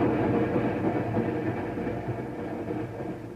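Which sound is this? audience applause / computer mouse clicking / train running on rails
train running on rails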